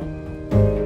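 Water switched on in a 90s-themed murder-mystery puzzle game, with a sudden onset of steady rushing flow that holds fairly loud and even for the remainder.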